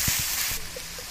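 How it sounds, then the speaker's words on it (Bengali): Onion paste frying in hot oil for a Bengali egg chop, a steady broadband sizzle running throughout, with a few soft low stirring knocks near the start. "এখন গরম করে নেওয়ার পর পূর্বে পেঁয়াজ বাটা দেওয়া হবে, দেওয়া হচ্ছে পেঁয়াজ বাটা"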